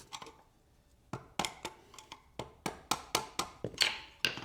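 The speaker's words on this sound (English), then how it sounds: "with a hammer and just knock on the ridges to tighten it up" Hammer and screwdriver knocking on the ridges of an EMT conduit connector at an electrical box, a run of sharp metallic taps, near and loud, coming faster in uneven bursts.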